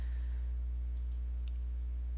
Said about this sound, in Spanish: simplemente es hacer un clic en el mouse con el botón de la izquierda y arrastramos